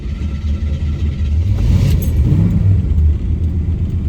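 A car engine catches and revs with a steady low rumble, swelling louder midway as the throttle is feathered, then settling into a held idle; close and continuous with no talk.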